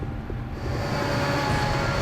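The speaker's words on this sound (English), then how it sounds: "enormous freight train is out of control, tearing through the Canadian Rockies" An enormous out-of-control freight train rumbles through the Canadian Rockies as a loud, continuous low roar that builds slightly, with a faint high whine on top.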